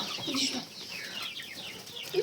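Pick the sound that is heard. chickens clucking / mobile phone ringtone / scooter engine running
chickens clucking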